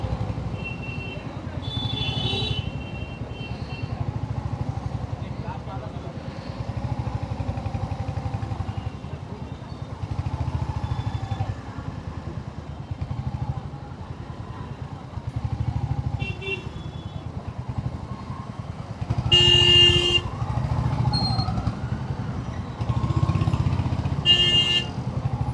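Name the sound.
motorcycle and car traffic with honking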